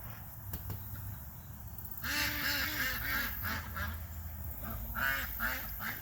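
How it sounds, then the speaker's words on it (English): Ducks quacking in short repeated bursts in a garden, fairly close, over a steady outdoor background hum. "the ducks are singing a song of their people for you"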